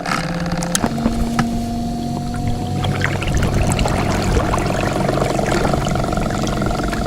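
A boat hauling metal churns along the Pripyat River, a steady engine drone with water wash across the whole stretch, loud and continuous with a brief tonal hum early on and no talking.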